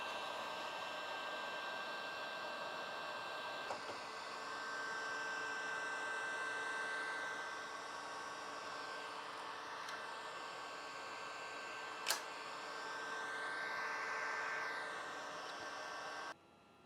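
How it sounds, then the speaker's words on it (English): A heat gun blows steadily on the glossy side of paint protection film, a constant airy whooshing hum lasting over fifteen seconds with slight shifts in tone, one faint click midway, then cutting off. "to create this little bend right here, I just use a heat gun"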